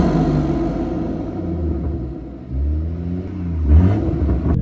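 Air intake of a BMW B58 engine rumbles and whooshes as the engine is revved, with rising and falling swells of intake roar and a brief louder surge near the end.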